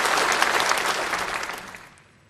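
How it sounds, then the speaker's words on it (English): Delegates at a CPPCC plenary session applaud to approve the agenda, a broad hall-filling wash of clapping that holds steady and then fades away toward the end. "please applaud for its approval"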